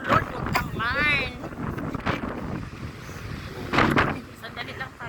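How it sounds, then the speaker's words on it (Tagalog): Strong wind buffets the microphone near a boat, with rough gusty rumbling throughout and people talking over it. "Ang lakas na ng hangin."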